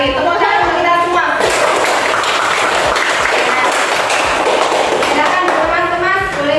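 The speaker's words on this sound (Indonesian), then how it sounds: "Tepuk tangan untuk kita semua." A primary school class claps their hands together in a loud, sustained round of applause that swells in the middle, with children's voices and a teacher talking around it.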